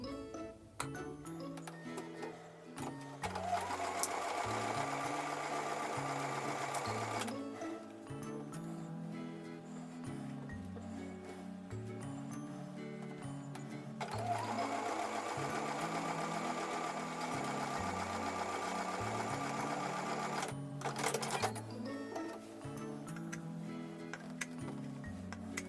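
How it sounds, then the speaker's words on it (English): A sewing machine stitches quilt fabric in two long, steady bursts, its needle chattering rapidly with a rhythmic mechanical hum, pausing briefly in between. "I'm going to take those over to the sewing machine and sew with a 1/4 inch."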